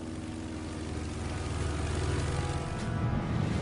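A First World War fighter plane's propeller engine drones steadily and loudly, its throbbing roar building slightly as it passes close by during an aerial dogfight.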